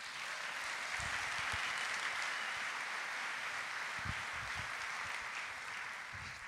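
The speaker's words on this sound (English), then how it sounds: "Another round of applause for Dr." An audience at a brass Christmas concert applauds after a brass arrangement of Silent Night, a steady, even wash of many hands clapping, heard fairly faint and distant throughout.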